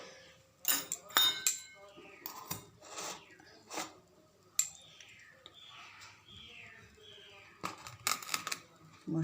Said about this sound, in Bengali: আমি এখন কড়াইটা ঢাকনা সরিয়ে দেব।